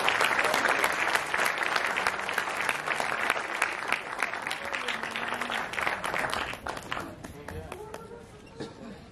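Audience applause at a music launch event fills the room, dense sustained clapping from a crowd that holds steady before thinning slightly toward the end, with voices mixed in underneath.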